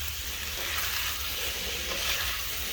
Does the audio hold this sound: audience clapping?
no